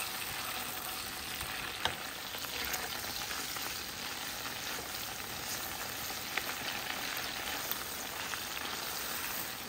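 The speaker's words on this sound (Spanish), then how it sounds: "Vuelvo a agarrar otro pedazo de bistec y lo vuelvo a poner a sancochar o a guisar un poco" Beef steak for tortas de bistec fries in a pan, giving a continuous, even hiss of sizzling fat like light rain, with an occasional faint tap of a utensil.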